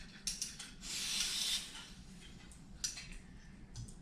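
A camping stove gas canister valve lets out a short, soft spray-like hiss of escaping gas lasting under a second, between faint handling ticks and clicks at close range.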